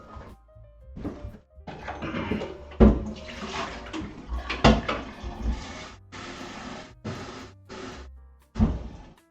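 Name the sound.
water being run from a tap to boil for coffee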